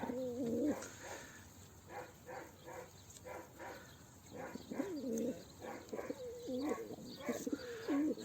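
Racing pigeons kept for competition coo in repeated rolling phrases, fairly close and clear, with several bouts spread across the stretch and a dog faintly barking in the background.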